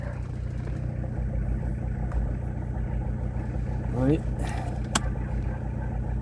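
A Citroën BX TZD turbo diesel engine idles steadily after being restarted, a low, even, rumbling drone close by, while someone briefly speaks over it and a short squeak and click come in near the end.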